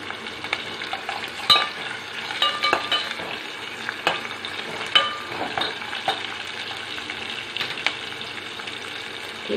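Onion and pumpkin sauté in a pan for poosanikkai kootu, a dense, fairly loud sizzle running throughout with scattered soft scrapes and clicks from stirring.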